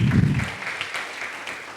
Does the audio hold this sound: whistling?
no